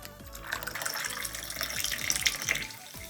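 Aka-shiso syrup pouring into a glass for a Japanese shiso soda, a steady close liquid trickle with faint splashing throughout.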